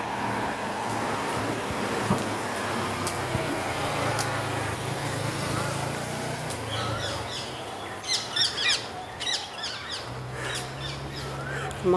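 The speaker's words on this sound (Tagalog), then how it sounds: "Kumakanta na naman yung mga ibon." Birds singing along Rangoon Garden Way, a street under roadwork, with bright chirps and tweets clustering in the later seconds over steady traffic rumble and road noise.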